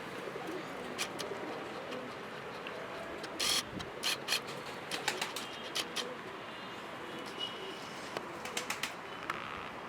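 Pigeons coo softly in a loft among a few brief flutters and clicks, faint and intermittent over a steady background hiss.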